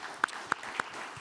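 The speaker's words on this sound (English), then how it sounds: "let's give a round of applause to them" Three sharp, evenly spaced hand claps ring out at a Rotary gathering in Ames, loud and close over a quiet room, with no one speaking.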